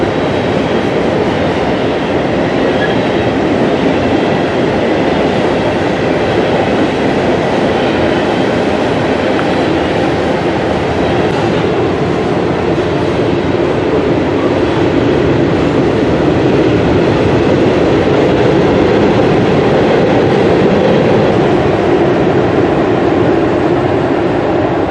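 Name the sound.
Lehigh Valley freight train crossing a steel bridge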